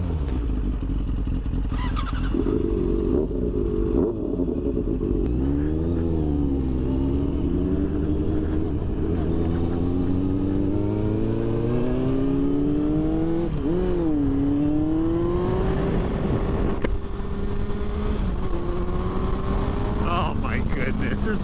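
A 2006 Yamaha FZ6 motorcycle accelerates on the road, its engine climbing loudly through the gears with repeated rising pitch sweeps and a constant rush of wind, close and continuous, with riders talking over it.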